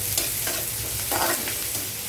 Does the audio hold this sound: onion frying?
yes